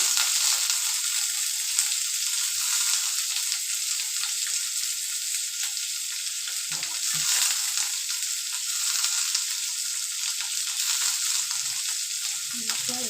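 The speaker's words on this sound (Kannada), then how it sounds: "ఈరుల్లి వెల్లుల్లి ಮತ್ತು ಒಂದು ಟೊಮೊಟೊ ಎಲ್ಲನೂ ಹಾಕಿ ಸ್ವಲ್ಪ ಹುರ್ಕೊತೀನಿ ಒಂದು ಎರಡು ನಿಮಿಷ ಹುರ್ಕೊತೀನಿ" Onion, garlic and tomato fry in a pan for a sambar, a steady, loud, unbroken sizzle that runs alone from start to finish with faint stirring now and then.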